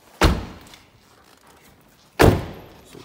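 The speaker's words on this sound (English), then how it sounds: "Close all the doors first." Car doors on a 2006 Nissan Tiida Axis Autech Edition shut with two solid, loud thuds about two seconds apart, each fading into a short low rumble.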